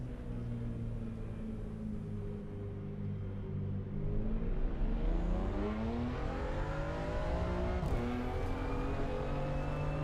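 Race cars in the racing game Assetto Corsa Competizione, including a BMW M2 at Valencia, drone and rev steadily, with engine pitches rising and shifting as cars pass close by, a continuous loud rumble with no talk.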